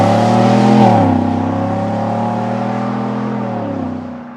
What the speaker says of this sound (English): you hit the go pedal and you get to hear an angry V8